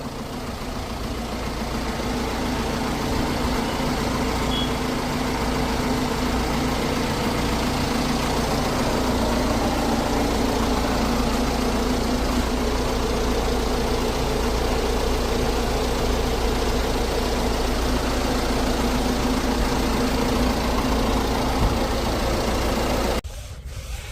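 A Jeep Compass engine running after an overhaul, a steady close idle with an even low hum and faint mechanical ticking that holds unchanged for over twenty seconds before cutting off abruptly.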